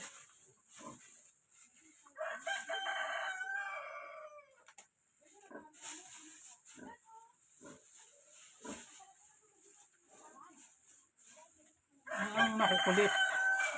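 Chickens cluck and a rooster crows loudly on a hot day around noon, with the crowing bursts near at the start and again at the end and scattered clucks in between.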